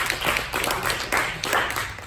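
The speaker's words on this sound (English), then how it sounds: "So let's give him a round of applause." Short burst of clapping from a church audience after a sermon, a quick patter of hands that stays fairly close and steady for a couple of seconds.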